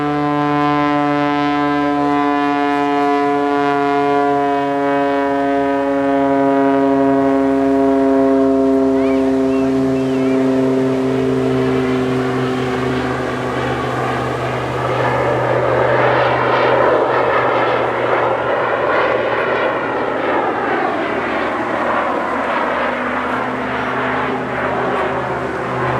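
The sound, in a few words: Jet Pitts Special aerobatic aircraft flying past at an airshow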